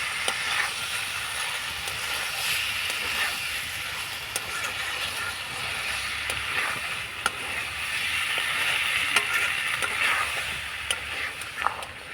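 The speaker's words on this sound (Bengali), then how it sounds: "এবার পাস্তাগুলো দিয়ে দেব, দিয়ে একটু এইভাবে করে নাড়াচাড়ানো করে নেব।" Pasta being stirred through hot oil and spices in a frying pan gives a steady close sizzle and hiss, broken by occasional light clicks of the spoon against the pan.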